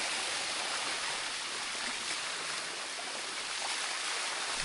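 Water runs down a forest trail in Chiang Mai, making a steady, even rushing hiss that holds at a moderate level throughout with no voices.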